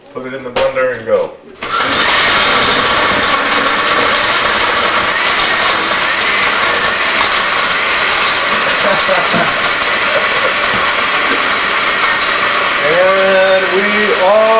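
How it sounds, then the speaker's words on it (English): After a brief spoken phrase, a blender whirs up loudly and runs at a steady high whine, blending banana and strawberries, with a voice returning near the end. "Put it in the blender and go."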